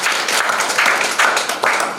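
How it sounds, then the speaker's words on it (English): A short burst of audience applause at a comedy show, many hands clapping together in a dense, fluttering wash that swells slightly in waves. "Give him a round of applause."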